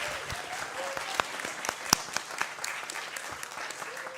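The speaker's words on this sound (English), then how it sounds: "Please give them an applause." Applause from an audience at a law and dentistry school mock trial event for the participants, a fairly quiet, steady patter of many hands with a few sharper claps standing out.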